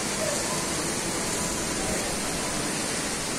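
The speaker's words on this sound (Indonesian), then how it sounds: "Sungai." A river runs swollen after rain, a steady, dense rush of flowing water that stays close and even from start to finish, with no voices over it.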